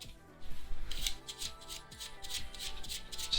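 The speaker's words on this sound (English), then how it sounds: "I'm just gonna give the cards a shuffle" Soft papery riffling bursts repeat in quick succession, like a deck of cards being shuffled close by, with no talking.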